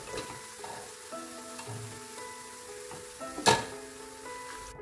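Nendran banana chips frying in hot oil give a steady, close sizzle with light bubbling, broken by one sharp clatter near the end.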